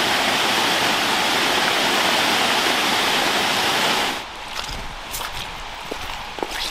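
Waterfall on the Gifford Water in East Lothian, a steady broadband rush of falling water that fills the first four seconds loudly, then drops to a quieter, more distant flow with small splashes and a few faint footsteps.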